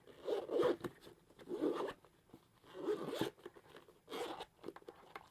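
A zipper on a waterproof hard case is pulled in several short bursts with pauses between, a close, raspy zipping sound, fairly quiet.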